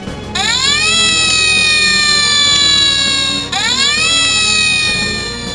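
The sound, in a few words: rescue vehicle sirens, Thomas & Friends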